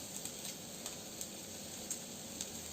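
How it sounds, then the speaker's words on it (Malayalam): Faint soft sizzle of capsicum being sautéed in a pan for a homemade pizza topping, a low steady frying hiss with a few light ticks of stirring. "എന്നിട്ട് നന്നായിട്ട് വഴറ്റി കൊടുക്കുക"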